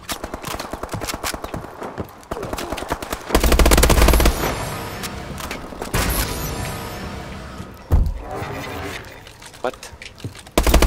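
Rapid bursts of automatic gunfire from a Call of Duty: Advanced Warfare match, with heavy booming shots and dense rattling volleys, loud and close. The firing keeps going throughout and mixes with other game effects.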